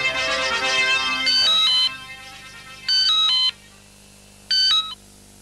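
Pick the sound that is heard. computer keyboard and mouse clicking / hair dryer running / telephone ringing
telephone ringing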